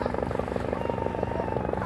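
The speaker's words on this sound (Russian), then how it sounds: "И вертолет вот идет." A police helicopter flies over a beach in Konyaalti, Antalya, Turkey, its rotor thumping in a rapid, steady pulse with a continuous engine drone, fairly loud and unbroken throughout.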